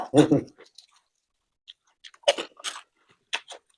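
Crunchy fuchka is bitten and chewed in an eating challenge, giving several short, close crunches separated by silence, with a voice briefly at the start.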